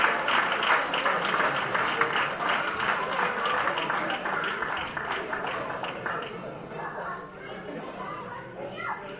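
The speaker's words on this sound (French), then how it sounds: "On peut les applaudir bien fort." An audience gives steady, sustained applause at a trophy ceremony for rowing race winners, with many hands clapping at once under a background of crowd chatter.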